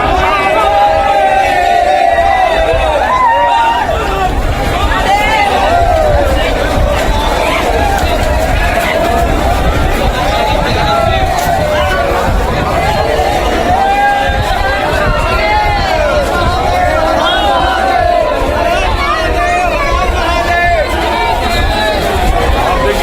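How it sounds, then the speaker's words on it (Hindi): A huge crowd of devotees packs Somnath temple, a dense, continuous roar of voices, shouts and chanting, loud and close throughout with babble layered over everything. "देखिए सोमनाथ मंदिर की भीड़ देखिए जरा, भक्तों की भीड़, भारी हुजूम।"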